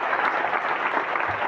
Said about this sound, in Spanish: damos un aplauso a Luisa